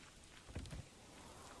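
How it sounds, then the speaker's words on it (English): Rain in the video game Manor Lords hisses as a steady, soft wash of falling drops, with a brief low rumble rising and fading partway through, faint and with no voices. "this rain is kind of interesting"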